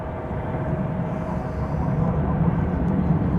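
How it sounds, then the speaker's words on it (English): A Delta airliner takes off from DFW Airport toward Minneapolis with a steady, broad engine roar that swells slightly as it climbs, heard from a fair distance and without talk. "So there goes that Delta plane off to Minneapolis"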